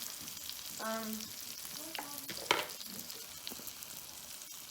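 Fish fillets frying in a pan, a soft steady sizzle with a few clinks and a utensil scrape, fairly quiet and close, no talking.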